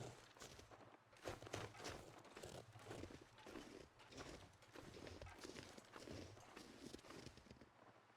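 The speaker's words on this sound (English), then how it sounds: "I could hear footsteps. I was like, where is that coming from and what is it? But it's a deer running away." A deer runs off in the survival game The Long Dark, its hoofbeats a quick, uneven patter of faint footsteps on snowy ground against quiet wind.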